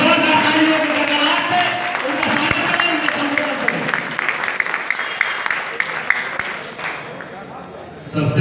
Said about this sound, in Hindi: जोरदार तालियों की गड़गड़ाहट से उनका स्वागत करें